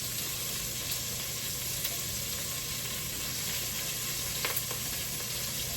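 Onion wedges fry in a hot pan for venison stew, giving a loud, steady sizzle and crackle with occasional sharper pops and stirring scrapes throughout.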